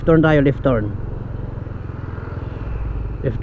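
A motorcycle rides along a wide road in a government centre in Palo, Leyte, its engine droning steadily underneath, with someone talking over it at the start.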